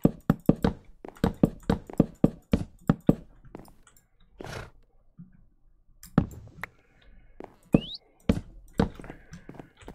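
Birch floor blocks being placed in Minecraft, heard as a rapid series of sharp wooden knocks and taps in uneven bursts, with short pauses between clusters and a brief higher sliding tone near the end.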